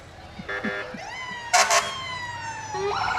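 A fire engine siren of the Harper Volunteer Fire Department wails close by in a July 4th parade in Fredericksburg, Texas, rising and falling, with sharp blaring horn bursts in between.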